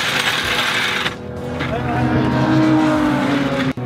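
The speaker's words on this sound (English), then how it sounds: "Car's back in." A race car rumbles back into the pit lane, its engine droning loud and near with a rising whine of revs, then cutting off abruptly at the end.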